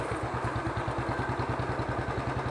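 A motorcycle engine in first gear, revved steadily with a fast, even pulsing beat, close and continuous, with no speech.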